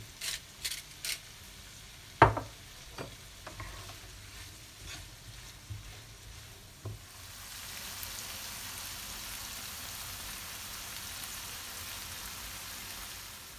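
Onions with salt sweating in a pan for chicken in onion sauce, a soft steady sizzle that grows denser and more continuous in the second half, preceded by a few clacks of a utensil, with no talk.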